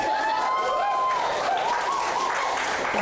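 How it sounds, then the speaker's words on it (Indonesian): Audience applause at an Indonesian Q&A forum on critical thinking and hoaxes, dense steady clapping that fills the whole clip, with a faint tonal whine running underneath. "Tepuk tangan."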